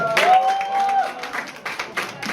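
A room of church teachers at a training session breaks into brief, scattered clapping. A sustained tone runs through the first part, and loose bursts of claps follow.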